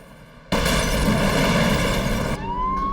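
A sudden loud blast of noise bursts in and holds for about two seconds, then a fire engine siren begins wailing upward as the din drops.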